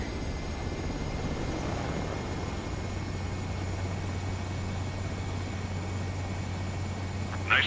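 A fighter jet comes in to land in the Ace Combat 7 video game, its engine a steady droning hum with a constant low tone, moderately loud and alone, ending in a short burst of noise.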